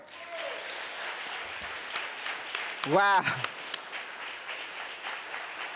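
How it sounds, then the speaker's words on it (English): Audience applause at a political party congress, a steady crowd of clapping running throughout, with a voice calling out briefly in the middle. "Can we have a round of applause?"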